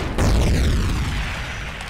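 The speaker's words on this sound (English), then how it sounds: "let me just blow him up. Tailed Beast Bomb." A Tailed Beast Bomb goes off in a video game, a sharp onset followed by a heavy, rumbling boom that slowly fades and sweeps downward, alone without voices.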